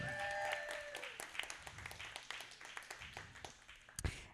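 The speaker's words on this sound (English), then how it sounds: "Everybody give a round of applause for Eric." Scattered clapping from a modest audience at a community panel event greets a speaker, starting fuller and thinning into individual claps with a faint tone at the start and a sharp clap near the end.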